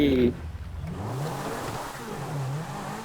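The engine of a Lamborghini-style car in GTA hums and revs at mid pitch, steady and close, after a brief opening tone. The pitch rises and falls slightly as it drives.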